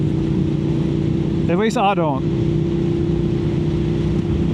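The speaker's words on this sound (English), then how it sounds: "This exhaust is a full exhaust, and it doesn't sound bad." A 4th-gen Suzuki SV650 motorcycle with a full exhaust hums steadily at a constant low drone throughout, with someone briefly talking over it.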